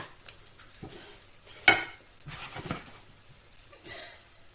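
A Thai-style omelette sizzles and fries in a pan, with light stirring and scraping, a sharp utensil clatter partway through, and a soft steady hiss underneath.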